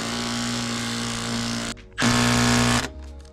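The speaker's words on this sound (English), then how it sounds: "Are you going to put it in the drill?" A power drill whirs steadily at high speed for almost two seconds, briefly stops, then spins up again loud and close for another burst during work on a business EV charger installation.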